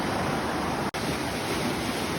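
A raging backyard river rushes in a dense, unbroken roar of white water, loud and close, with one brief dropout midway.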